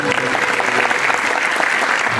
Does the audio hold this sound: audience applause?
yes